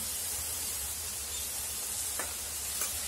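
Green chili paste hitting hot oil in a pan while cooking hilsa in mustard-poppy sauce, producing a continuous, even sizzle with a couple of faint scraping stirs near the end, no voices.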